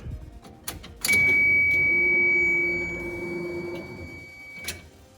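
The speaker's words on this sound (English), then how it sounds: "I should hear the fuel pump cycle." The fuel pump of a V8-swapped MR2 primes with the tank dry, giving a steady whine and hum that holds for several seconds before fading. Faint clicks come before and after.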